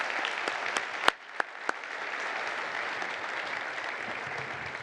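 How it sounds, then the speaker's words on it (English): Audience applause rises from a few sharp claps into steady, full clapping from a conference crowd honoring the event committee, sustained and fairly loud throughout with no talking. "Get a quick round of applause for our committee here"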